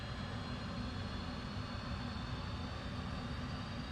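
A steady, moderately faint roar as an F/A-18C jet engine winds up during startup in the DCS flight simulator, a continuous broadband rumble with no talking.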